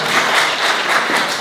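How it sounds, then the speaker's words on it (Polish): Brief burst of audience applause at a folk ensemble's tenth anniversary jubilee concert, loud and even, packed clapping filling a hall with no voices on top. "Ogromne brawa jeszcze raz."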